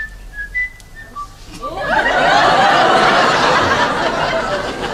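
Someone whistles a melodic tune from The Mikado, a few clear rising notes at first, then the whistling continues under a swell of broad background noise, close and fairly loud.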